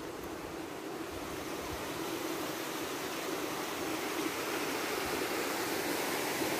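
Cold mountain spring water rushes through a 7-foot-deep canal at a resort in the Philippines, a steady broadband wash of flow with no speech.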